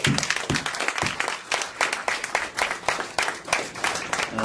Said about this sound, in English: give yourselves a round of applause for coming back